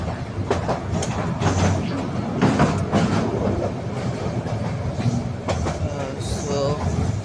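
Steady rumbling and rattling inside a moving train carriage, with repeated wheel clatter and knocks over a continuous low roar, close and fairly loud, and faint voices mixed in.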